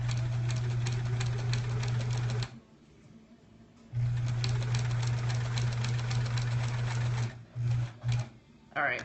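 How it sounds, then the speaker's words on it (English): A sewing machine stitches quilt block pieces, running steadily with a rapid mechanical hum, pausing for about a second, then resuming and ending in short bursts; a voice speaks faintly underneath. "we're just gonna finish sewing this row together"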